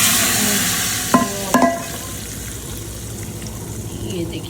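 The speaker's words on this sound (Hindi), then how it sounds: "ये देखिए, ये लग गया तड़का" Spice tempering (tadka) sizzles in hot oil in a pan for haleem, a steady broadband fry with a couple of sharp crackling bursts near the start, close and fairly loud, no talk.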